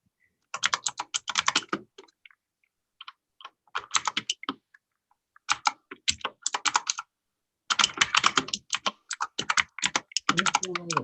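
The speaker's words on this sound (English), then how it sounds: "What's going on with typing here?" Rapid typing on a computer keyboard comes in bursts of dense clicking separated by short pauses, close and fairly crisp, with faint talk near the end.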